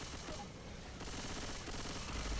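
Rapid gunfire in the zombie shooter Left 4 Dead 2, a quiet, continuous rattle of overlapping shots filling the background without a break.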